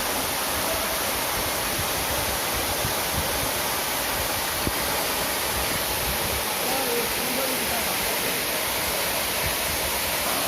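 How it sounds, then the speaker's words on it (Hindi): A waterfall at Gandikota pours in a steady, unbroken broadband roar, close and constant throughout, with no voices. "देखो कितना खूबसूरत वाटरफॉल है ये"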